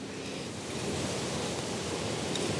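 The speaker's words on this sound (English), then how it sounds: "Ooh, that wind." Steady gusting wind in an autumn woodland garden, a broad continuous rush that swells slightly toward the end, close to the microphone with no talking.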